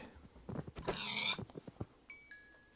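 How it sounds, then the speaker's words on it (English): Pig grunting in the video game Minecraft: a few short snorting grunts, with a longer rough grunt in the middle, then a couple of brief high chiming tones. "Oh, pig!"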